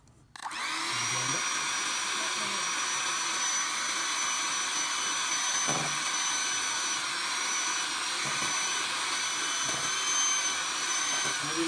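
An electric hand mixer whirs continuously at high speed, beating egg yolks into the batter for a Christmas cake; a steady whine starts abruptly and holds, with a few faint knocks of the beaters against the bowl.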